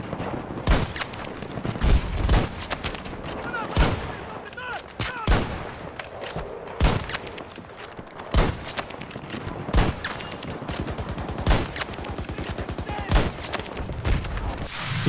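Gunfire rattles in the Battlefield 2042 video game, where a sniper is used against an enemy team spawn, with repeated sharp cracks and rapid bursts in an irregular rhythm, loud and close, under some talking.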